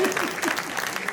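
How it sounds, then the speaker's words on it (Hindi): Clapping from an audience at a Hindi poetry gathering (kavi sammelan) in Amgaon rolls in briefly, a burst of many hands with a voice speaking over it. "मुझे ताली बजा के बताओ कि मुझे भी जवाब देना है।"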